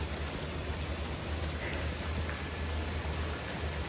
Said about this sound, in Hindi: बारिश हो रही है, देखो आ गई, तेज़ आ गई, तेज़